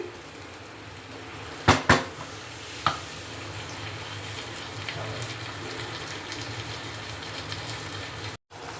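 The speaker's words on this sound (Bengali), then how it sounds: "এইভাবে মাংসটাকে কষিয়ে নিচ্ছি" Chicken meat stirred and fried in a pot, a steady sizzling texture throughout with a few sharp scraping clinks early on, no talk.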